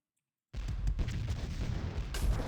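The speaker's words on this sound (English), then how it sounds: "Hopefully it sinks in a single cannon." In the Ultima Online video game, a ship's cannons fire in a dense, rumbling burst that starts abruptly after a moment of silence. The booms layer over one another, with a sharper crack near the end and no voices.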